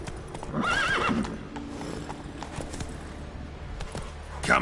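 The horse Roach from the video game The Witcher 3, galloping with steady clip-clop hoofbeats and a loud neigh near the start, close and clear, with no talk over it.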